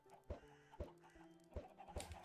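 Minecraft chickens clucking in a sparse in-game scene, four short sharp clucks spaced about half a second apart over a low steady ambient bed, with no talk.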